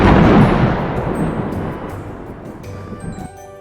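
Heavy rolling rumble of thunder in a rainstorm, loudest at the start and then trailing off into a long, low growl with no talk.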